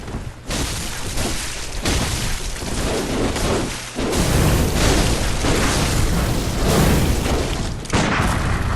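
Rapid bursts of pistol fire from the Bloodborne repeating pistol ring out over loud, dense game combat, with several heavy booming blasts through the clip.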